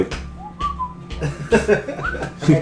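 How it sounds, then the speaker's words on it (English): A person whistles a few soft, brief notes under rustling, tapping movement noise, quiet and close. "trying to whistle as quietly as you can"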